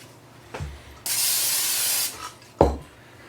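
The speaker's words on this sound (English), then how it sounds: "we're going to spray some of this in there" Cooking spray hisses into a mixing bowl in one loud continuous burst lasting about a second, framed by soft knocks of the can and bowl.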